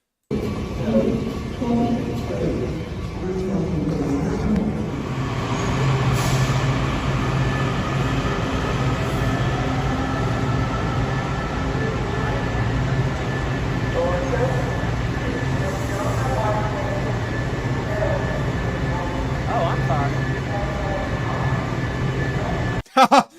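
A metro train rumbles through an underground station where armed guards stand, giving a steady, loud low drone with faint metallic squeals over it, while people talk throughout.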